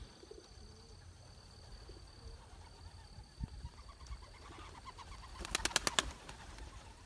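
Young birds wheel through the sky over a quiet outdoor hush. Near the end, a sudden close burst of rapid wingbeats flutters for about a second.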